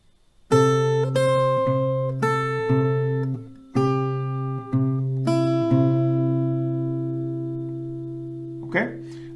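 Slow picked notes on an acoustic guitar play a part of a song. Each note is plucked clearly and left to ring in a gentle, unhurried rhythm, close and alone, and the notes fade near the end.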